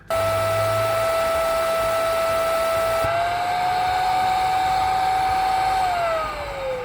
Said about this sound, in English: you'll be able to hear the vacuum, like it'll still be on and running